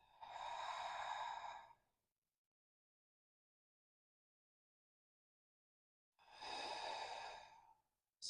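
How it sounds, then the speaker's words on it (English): Two slow, deep breaths during a yoga stretch, each a long, soft, close airy exhale lasting about two seconds, separated by a long silence, with the start of another breath at the end. "Deep breath."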